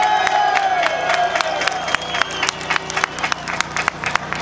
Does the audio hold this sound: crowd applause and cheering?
yes